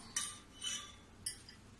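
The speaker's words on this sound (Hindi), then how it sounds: "देखो मैं चम्मच से निकाल लेती हूँ और आपको अच्छे से दिखाती हूँ कि ये दही कितनी सुंदर बनी है" A metal spoon clinks against a container while scooping homemade curd, three short, faint taps spaced apart in a quiet room.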